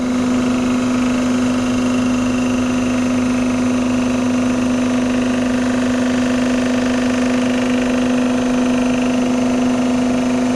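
A lathe machining a valve guide with the auto feed engaged, a 3-thou cleaning cut, gives a steady, continuous machine hum with a strong tonal drone that holds unchanged throughout, with no talking.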